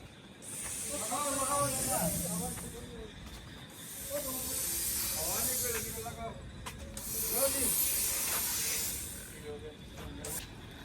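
A crop sprayer on a New Holland tractor hisses in long, loud bursts, rising and fading several times, while people talk throughout.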